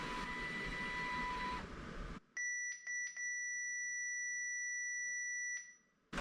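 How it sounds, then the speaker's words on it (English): A Permobil F3 power wheelchair alarm sounds in a few short high-pitched electronic beeps followed by one long sustained tone, loud and clear after a burst of noise. "erupt in the loudest beeps you've ever heard in your life"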